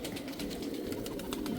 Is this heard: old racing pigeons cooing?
yes